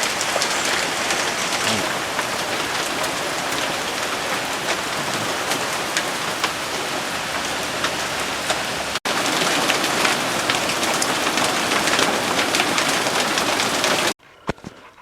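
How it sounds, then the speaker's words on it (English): Heavy rain pours down steadily outdoors in a thunderstorm, a loud, dense hiss of drops on surfaces that runs unbroken for most of the stretch, briefly cut once, before ending abruptly into near quiet. "In comes the rain."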